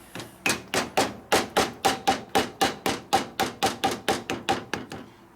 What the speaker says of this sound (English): I go on the other side and beat it with a hammer